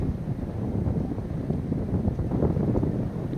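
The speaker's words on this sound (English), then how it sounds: "Windy out today" Strong outdoor wind buffeting the microphone, a continuous loud low rumble with gusty fluttering and no pauses, filling the whole stretch without any voices.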